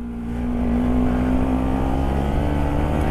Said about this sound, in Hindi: भाई इसका साइलेंसर एक बार चेक करो। ओह क्या खतरनाक साउंड कर रही है बाइक।